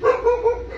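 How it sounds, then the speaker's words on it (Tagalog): A Chow Chow dog barks close by, three short harmonic barks in quick succession, with no talk over them. "Kung ano yung kumakahol."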